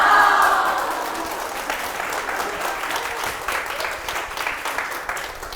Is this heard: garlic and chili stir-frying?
no